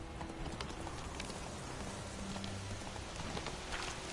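Horse hooves clip-clop in a steady, quick rhythm in the video game Witcher 3, fairly faint under a constant rain-like hiss of ambient noise.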